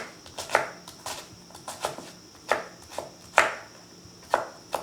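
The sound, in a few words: knife chopping shallots on a board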